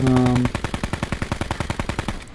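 Rapid automatic gunfire in the Blackout battle royale game, a tight run of evenly spaced loud shots rattling off for about two seconds after a brief steady tone.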